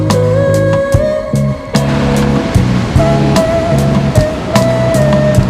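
Ocean waves break on a beach on the outskirts of Jakarta, a loud, steady wash of surf with a pulsing low hum running beneath it.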